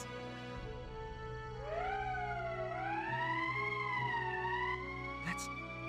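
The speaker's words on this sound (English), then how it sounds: "That's the emergency siren." An emergency siren in the video game Valkyria Chronicles wails with a smooth rising and falling tone, steady and prominent over a low hum, ending with a brief sharp click.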